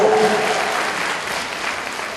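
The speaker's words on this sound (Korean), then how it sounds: "박수로 맞이해 주시기 바랍니다." Brief burst of audience applause at a political talk show event, even dense clapping from a crowd, with a voice briefly heard at the start.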